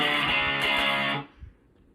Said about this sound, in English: And if you play it with power chords, it sounds like this.